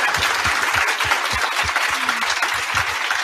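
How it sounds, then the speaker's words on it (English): Enthusiastic audience applause at a women's conference panel, a crowd clapping steadily with a few louder close-by claps standing out above the wash. "Can we get a big round of applause for these women?"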